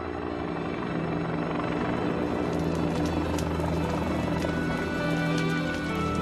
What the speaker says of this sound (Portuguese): Um helicóptero soltando napalm chamejante em gel é a maneira escolhida